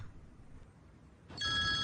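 A quiet room hum, then a telephone begins ringing abruptly near the end, a bright, electronic ring close by.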